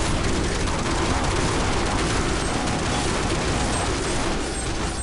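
Dense, continuous gunfire fills a round of the video game Counter-Strike Online, rapid bursts blending into a loud, unbroken rattle with no speech over it.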